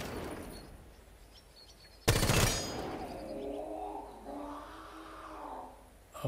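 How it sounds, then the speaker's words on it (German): Gunfire from a weapon in the video game Rainbow Six Siege, a single loud sharp blast followed by a fading, rising and falling eerie tone. "Nochmal schießen."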